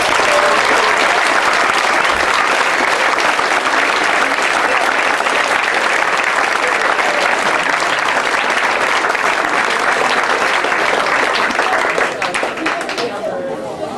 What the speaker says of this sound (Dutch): Nog een keer een hartelijk applaus.